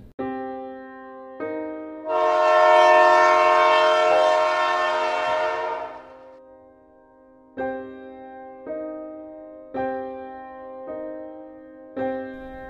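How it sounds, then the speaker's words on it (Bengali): A train pulling into a station sounds its horn in a long, loud blast, followed by several shorter honks spaced a couple of seconds apart. "ট্রেনটি এতটাই দেরি করলো যে 10টার ট্রেন 12টায় এসে থামলো।"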